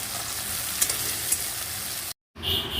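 Spices frying in hot oil with a pinch of asafoetida, a close continuous sizzle with a couple of light taps, then a sudden brief cutoff before the sizzle resumes, hissing brighter as lentils go into the pan.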